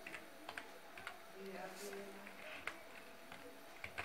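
Keystrokes on a computer keyboard while a VLOOKUP formula is entered, a scattered run of light clicks in irregular bursts, close and fairly quiet, with faint background voice.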